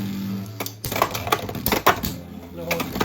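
Beyblade X tops Horn Rhino and Steel Samurai clash in a plastic stadium, a series of sharp metallic clicks and rattling hits over a commentator's voice.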